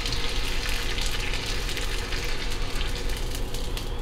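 Wonton wrappers frying in hot oil while being shaped into taco shells, a steady, close sizzle and bubbling hiss with no talk.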